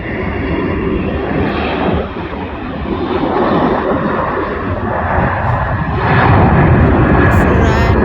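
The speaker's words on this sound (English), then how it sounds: "There's a plane coming" A Ryanair airplane takes off with a loud, steady, broadband engine roar that swells toward the end, close and dominating, as a person talks over it.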